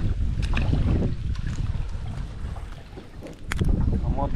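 A boat motor runs on water with a rough, rumbling drone, buffeted by wind noise on the microphone. The level swells and dips, and faint bits of activity come through.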